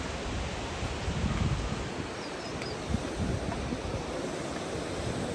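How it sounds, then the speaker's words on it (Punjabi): Fast-flowing mountain waterfall and river water along the trek path to Hemkund Sahib, a loud steady broadband rush that continues unbroken for several seconds with no voices. "ਆਹੀ ਪਾਣੀ ਕਿੰਨਾ ਤੇਜ਼ ਜਾਂਦਾ ਨਾ ਉਹ ਝਰਨੇ ਵਾਲੀ ਹੈ ਨਾ ਨਦੀ ਚ ਨਾ"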